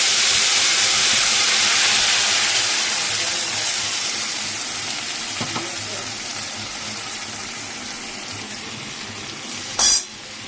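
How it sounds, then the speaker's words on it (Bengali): Nigella seeds temper in hot oil in a wok, giving a loud, broad sizzle that slowly fades. A single sharp utensil clink sounds near the end. "অল্প তেল দিয়ে কালো জিরে ফোড়ন দিয়েছি"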